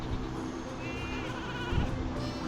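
Sheep bleat in Skylanders: Spyro's Adventure on the Wii, a wavering cry heard twice over constant game music.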